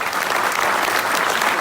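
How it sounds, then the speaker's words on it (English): A tech meetup audience gives a speaker a final round of applause: dense, loud, steady clapping that fills the hall from start to finish with no pauses. "final big applause for our speaker"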